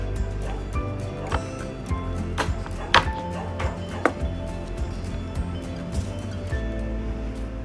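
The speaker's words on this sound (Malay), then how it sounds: "Dan kulit kayu manis ni kita kecilkan dia terlebih dahulu. Kita ketuk bagi dia hancur." Cinnamon bark is pounded to crush it for homemade curry spice powder, producing a series of irregular, sharp knocks spaced a second or so apart, close and fairly loud over a low background hum.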